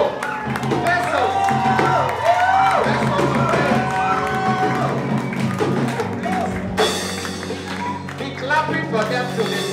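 A big crowd claps and cheers at a live concert in Ghana as a performing group is welcomed onstage. The ovation is loud and steady, with shouts over continuous clapping and music blending in.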